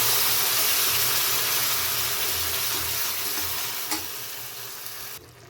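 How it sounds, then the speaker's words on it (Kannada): Ground paste goes into fried onions in a pan and fries with a steady, fairly loud sizzle and hiss, a brief clink near the end before the sound cuts off, no voices. "ಈರುಳ್ಳಿ ಎಲ್ಲ ಫ್ರೈ ಆಯಿತು. ನೋಡಿ, ಹೀಗೆ ರುಬ್ಬಿರೋದನ್ನ ಅದಕ್ಕೆ ಹಾಕ್ತೀನಿ."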